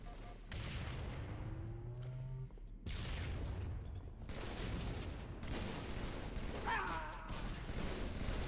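Explosive booms from a grenade in a first-person shooter game, layered with dense gunfire bursts, crashing impacts and faint talk throughout.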